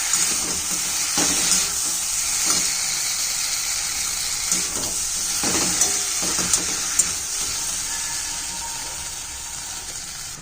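Food sizzling and frying in a pan as it is sautéed, a steady bright hiss with scattered stirring scrapes and clinks throughout, close and alone with no talk.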